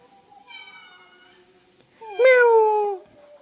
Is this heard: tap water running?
no